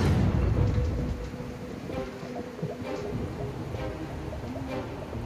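Steady hurricane rain falling at about 2 inches per hour roars in a broad wash, with low rumbles swelling near the start and faint irregular spatters throughout.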